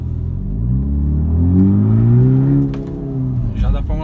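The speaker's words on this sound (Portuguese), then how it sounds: "E agora vamos fazer um pouquinho de barulho aqui abrindo a válvula." A Jaguar E-Pace SUV with its sport exhaust valve open revs up in a deep, loud rumbling surge that rises and falls back, recorded close by with traffic in the background.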